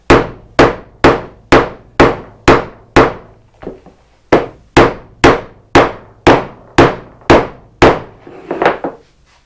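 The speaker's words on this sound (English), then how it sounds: "maybe somebody smashed your cable with a hammer" A hammer strikes a network cable over and over, about a dozen sharp, loud, evenly spaced whacks with a short pause partway through, and no voices.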